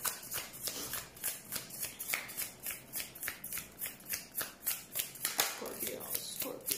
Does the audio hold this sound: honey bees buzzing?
no